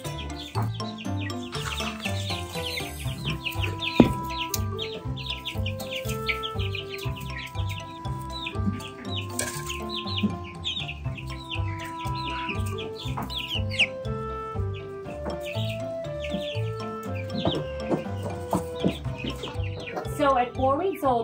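Four-week-old chicks cheep and cluck continuously in a busy, overlapping chorus of high peeps and soft clucks, close by and fairly loud.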